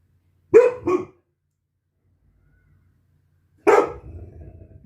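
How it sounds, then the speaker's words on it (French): A small pet dog barks indoors: a quick double bark near the start, a pause of silence, then a single sharper bark followed by a brief trailing rustle, close and fairly loud. "Elle entend du bruit, donc forcément elle aboie."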